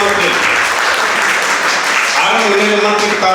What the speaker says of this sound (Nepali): प्रभुले ताली बजाएर धन्यवाद दिइहाल्नु